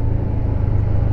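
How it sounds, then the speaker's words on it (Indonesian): Big Aqua water delivery truck in traffic at a Cirende junction, heard as a steady, loud low engine rumble close by with continuous road noise, no talking. "Wah, ada truk gede banget."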